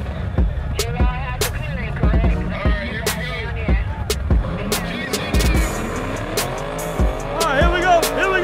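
Street grudge race cars, including a black Mustang, rev and accelerate hard with squealing tires, engine notes climbing through repeated gear changes, while sharp clicks and crowd noise sit in the background.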